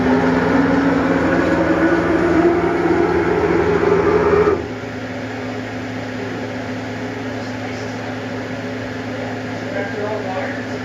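A CNC mill homing its axes gives a loud steady mechanical whir with motor tones for about four seconds, then it drops to a quieter constant hum as the motion stops.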